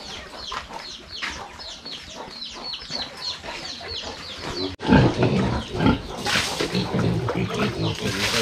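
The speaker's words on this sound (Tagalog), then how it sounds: "Ang laki ng baboy." Pigs grunt and squeal on a rural farm in the provinces alongside clucking chickens, a busy close chorus that swells louder midway, with a voice speaking briefly.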